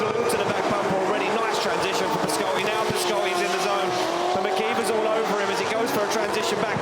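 Drift car at a Drift Masters round in Latvia, engine held at full throttle in a continuous loud roar with tires squealing, while a commentator talks excitedly over it.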